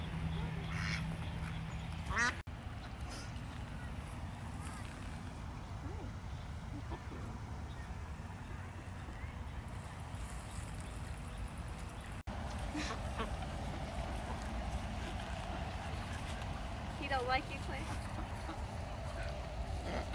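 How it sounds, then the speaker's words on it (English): Ducks and geese quack intermittently across a lakeside park at sunset, the calls moderately near and scattered over steady outdoor background noise, with occasional voices nearby. "Got geese and ducks swimming around."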